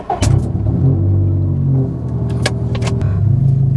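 A 400 WHP Subaru STI running E85 pulls away up close, its engine rumbling loud and steady with a throaty revving tone, broken by a few sharp clicks and knocks.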